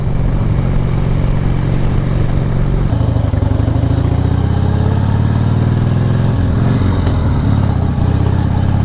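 A motorcycle ridden at highway speed around 70 mph, its engine droning loud and steady under heavy wind rush, with a slight change in pitch that suggests a gear shift partway through.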